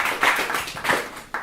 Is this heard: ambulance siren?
no